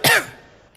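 A single sharp cough bursts out at the very start, loud and close, then trails off into quiet room tone.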